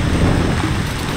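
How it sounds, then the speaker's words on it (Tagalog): Strong wind roaring with heavy rain battering a tent at a campsite, a dense continuous wash of noise with no voices. "pinapalo ng malakas na ulan tsaka hangin."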